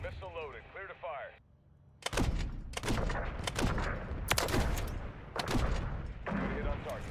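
Missile launch and heavy explosive blasts in a combat setting, with several loud, sharp bursts in quick succession after a brief electronic-sounding lead-in, close and booming over a continuous rumble.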